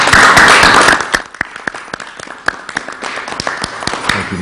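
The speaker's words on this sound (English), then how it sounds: "Let's give it a round of applause." Audience applause at a governor's bill signing for teacher salary laws, a dense burst of clapping that thins after a second into scattered individual claps continuing to the end.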